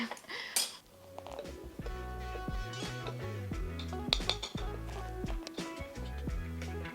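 Plates and cutlery clink and clatter as dishes are set out for serving an ice cream mocha cake, a series of close, sharp ceramic knocks and rattles over a steady room background with no talk.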